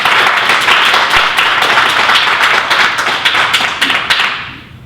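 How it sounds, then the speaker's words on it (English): Audience applause at a Vancouver city council public hearing on cannabis dispensaries, a loud dense burst of many hands clapping close by that fades out at the end, with no talking over it. "Appreciate the applause"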